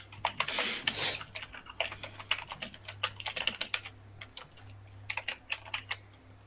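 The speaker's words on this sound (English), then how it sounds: "Furious typing." Rapid, furious typing on a computer keyboard, a dense burst of clacking keystrokes followed by irregular clusters of taps, close and fairly quiet, with no talking.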